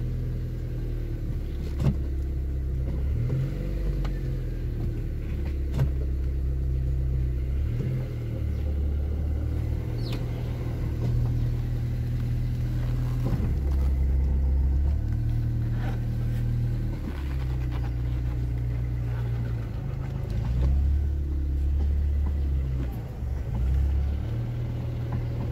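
A 2007 Tata Indica 1.4i petrol car engine while driving in first gear, a steady close low hum and rumble that rises and falls with throttle changes throughout.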